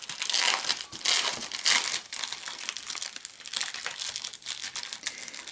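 Loud crinkling and tearing of plastic wrapping on a scrapbooking paper pad, steady rustling bursts close by with no talking.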